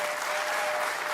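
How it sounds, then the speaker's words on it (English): A crowd at a PBA bowling playoff event breaks into dense, steady applause, many hands clapping together in a brief, full burst that fills the whole moment. "This crowd applauds for that."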